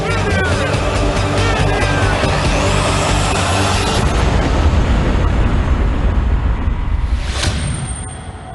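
A massive truck bomb detonates at military barracks in Beirut, a dense, sustained roaring blast filling the whole clip with a brief sharp crack near the end.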